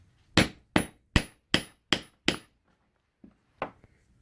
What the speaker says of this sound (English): I'm actually going to go ahead and punch the hole for the 1/4 inch eyelet as well